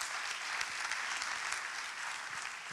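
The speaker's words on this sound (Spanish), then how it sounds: "Un aplauso fuerte, por favor." Audience applause at a talk on bringing rewilding to Uruguay, steady and dense clapping from a crowd held for the whole stretch without pause.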